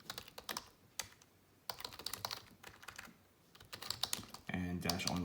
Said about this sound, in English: So all I have to do is really just type in get Windows Autopilot info